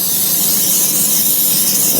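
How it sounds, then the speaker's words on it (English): A cheap can of cooking spray hisses onto a pan in a steady, close, continuous burst, with no talking. "Getting a little bit of spray."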